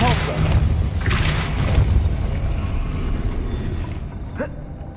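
Depulso force spell striking in the video game Hogwarts Legacy, a dense booming thud with layered rumble, fairly loud and continuous, ending in a sharp crack near the end.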